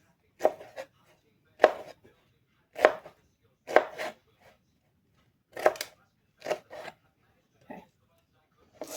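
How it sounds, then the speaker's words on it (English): Pineapple being cut with a sharp knife on a board, about ten crisp chopping strokes in an uneven rhythm, close and clear, with short pauses between cuts and no talking. "I always work with a nice sharp knife, so just be careful when you're cutting."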